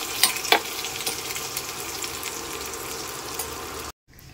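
Hot oil sizzles loudly and steadily with a few sharp crackles as chopped tomatoes fry in the pan, cutting off abruptly at the end.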